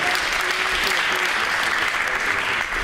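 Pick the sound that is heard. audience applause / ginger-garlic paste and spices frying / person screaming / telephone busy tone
audience applause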